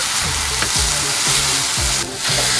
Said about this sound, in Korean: 계란 부침 팬에 호박 살짝 볶아주세요.